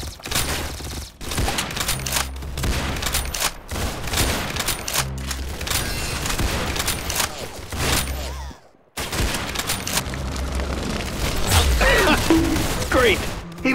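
Rapid video game gunfire in dense, sustained bursts of mechanical shots, loud and continuous with a brief gap, mixed with game effects.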